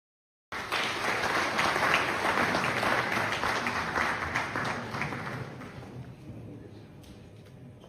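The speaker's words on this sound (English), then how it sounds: "let's give them a round of applause again" An audience at a Power Breakfast business meeting in Toronto breaks into loud, dense applause that starts abruptly, holds strong for several seconds, then gradually thins and fades.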